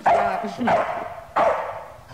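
A poodle barks three times in sharp, fairly close yaps spaced apart, in an indoor scene with a brief spoken word.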